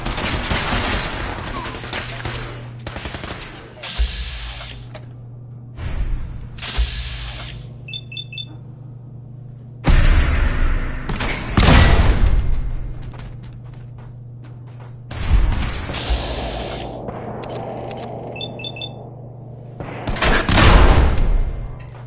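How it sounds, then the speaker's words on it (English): Gunfire in Fallout 4, loud bursts of rapid shots and heavy booms arriving in several waves, with brief electronic beeps and quieter gaps between the volleys. "Aim for their weak spot! Open fire!"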